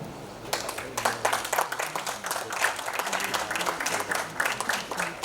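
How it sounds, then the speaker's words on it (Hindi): An audience at a grand musical event claps in a steady, moderately distant round of applause that holds throughout, with faint voices beneath it. "और सोनू जी, आप सभी से गुजारिश, तालियों के साथ हम इस घड़ी को और संवारने की कोशिश करेंगे।"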